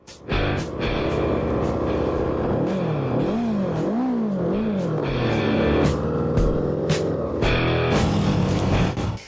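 A Kawasaki Eliminator 500 custom motorcycle on a ride, its engine droning loudly and close with wind rush, rising and falling through several revving gear changes, punctuated by brief clunks.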